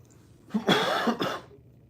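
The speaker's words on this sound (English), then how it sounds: "I just have this lingering cough from the dry throat" A short burst of dry, raspy coughing, close up, two or three harsh hacks in quick succession, then quiet.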